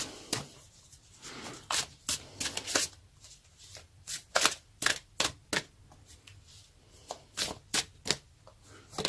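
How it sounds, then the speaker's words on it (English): Oracle cards from an Energy Oracle deck shuffled and handled at close range, a run of sharp, crisp riffling snaps and flicks coming in irregular bursts against a quiet room, with no talking. "let's pull the card for Energy Oracle card deck for you"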